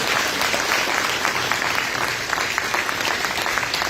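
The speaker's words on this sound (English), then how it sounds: "Let's give them a big hand clap for coming out tonight." Audience applause at a community club meeting welcoming county commissioner candidates, a full, even round of many people clapping with scattered sharper claps, sustained throughout and heard without talk.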